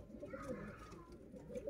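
Sialkoti rooftop pigeons coo in short, soft repeated phrases close by, a low throaty murmur filling the brief moment with no talking.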